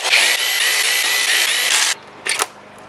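A power tool loosens the head bolts on a Ford 3.5L EcoBoost V6 using a 15mm socket, with a loud, close whirring burst of about two seconds followed by a brief second spurt.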